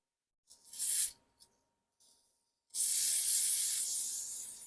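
Isopropyl alcohol sprayed from a can onto a circuit board: a short hiss, a couple of tiny puffs, then a long sustained spray, close and loud with no talk.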